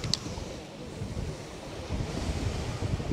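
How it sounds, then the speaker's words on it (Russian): Light sea breeze blowing at a sanatorium beach in Anapa on the Black Sea, a steady low rush of wind buffeting the microphone with soft surf underneath, fairly loud and continuous, with no talking. "Отсюда небольшой морской бриз есть."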